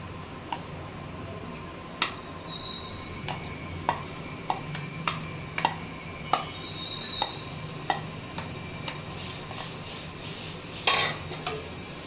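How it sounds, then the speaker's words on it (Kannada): Grated carrot roasting in hot ghee for carrot halwa, a soft steady sizzle under repeated sharp scrapes and taps of a spoon stirring against the pan, close and alone without talk. "ಈ ಕ್ಯಾರೆಟ್ ಸ್ವಲ್ಪ ಗೀ ರೋಸ್ಟ್ ಆಗಬೇಕು ಜಾಸ್ತಿ ಬೇಡ ಸ್ವಲ್ಪ ಒಂದು ತ್ರೀ ಮಿನಿಟ್ಸ್ ಇದನ್ನ ರೋಸ್ಟ್ ಮಾಡಬೇಕು"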